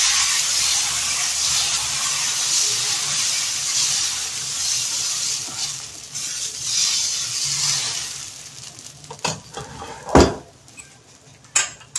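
Dosa batter is spread across a hot iron pan, giving a steady loud sizzle and hiss that gradually fades, followed by a few sharp scraping clinks of a ladle against the metal near the end.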